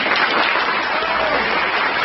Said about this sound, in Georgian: მაგარი აპლოდისმენტები.